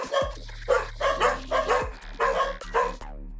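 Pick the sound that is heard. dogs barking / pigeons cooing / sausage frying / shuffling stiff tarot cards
dogs barking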